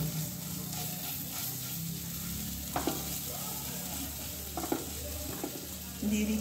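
Soft, steady sizzling of spices frying in a pan for dhaba-style palak paneer, with occasional scraping knocks from stirring, heard close and fairly quiet.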